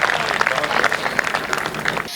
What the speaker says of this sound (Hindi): तालियां बजा दीजिए एक बार जोरदार आप